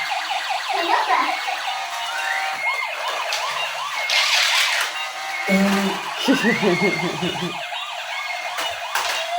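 A toy police car siren wails in repeated rising-and-falling electronic sweeps, close and fairly loud, with a brief lower warbling tone partway through; a child's play setting with indoor background noise.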